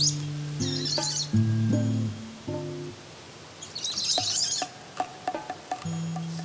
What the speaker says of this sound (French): Ah oui, là on entend le son de l'oiseau.